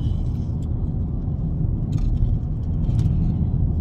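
A car cruises along at a steady pace, its low engine and road rumble filling the cabin evenly, with faint light rattles inside and nobody talking.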